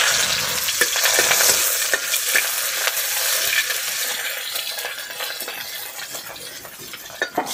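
Chopped onion sizzles in a hot pan with a bright, steady hiss, while a spoon stirs and scrapes against the metal in sharp clinks throughout.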